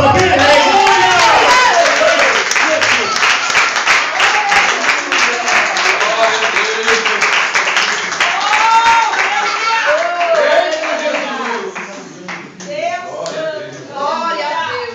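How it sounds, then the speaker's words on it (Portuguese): A church congregation claps in quick rhythmic bursts during a service, sharp crisp hand claps layered under loud, excited preaching and voices that continue throughout. "dá uma salva de palmas bem alegre."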